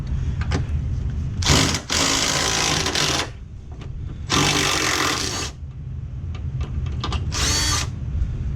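Two 10mm bolts being backed out of a bracket on a 2000 Camaro Z28 during a suspension install, loud bursts of a power driver whirring in three runs, with faint clicks and clanks of handling between them.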